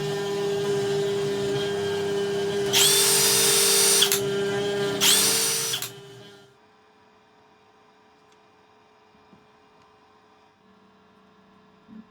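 A Carvera Air CNC machine cuts the outside of a turbocharger part blank, a loud steady whine with two sharper bursts of cutting, then the spindle stops and only a faint hum and occasional small clicks remain.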